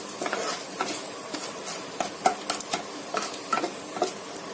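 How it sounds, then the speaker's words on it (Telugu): Mustard seeds crackle in hot oil and ghee, a steady low sizzle broken by sharp, scattered pops and ticks that come close and irregular over a few seconds. "ఆవాలు సౌండ్లు స్టార్ట్ అయినాయండి మనకి"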